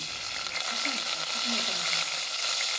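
Tomato hitting hot oil already seasoned with cumin and coriander for Maharashtra-style dal fry gives a loud, steady crackling sizzle up close, with a few soft stirring scrapes.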